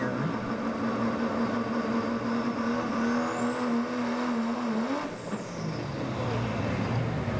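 A 1997 Dodge pulling truck called Bad Ash at a truck and tractor pull: loud, continuous engine drone with a rising high whine that climbs, holds, then drops, all over steady roaring noise.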